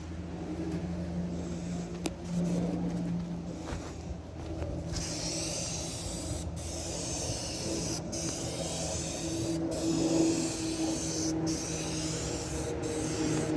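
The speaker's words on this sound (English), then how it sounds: "Got the piece all painted up and color matched." Aerosol clear coat hisses onto a plastic rocker cover for a 1999-2007 Chevy Silverado in long, close spray bursts separated by brief pauses, over a low steady hum.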